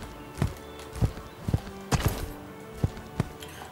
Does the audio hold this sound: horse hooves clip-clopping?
yes